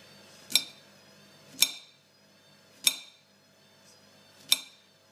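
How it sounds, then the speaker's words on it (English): Five sharp, clean clicks of a knife cutting a banana into sections on a board, spaced about a second apart, close and fairly quiet against a soft background hum. "I'm just gonna cut it into sections like this"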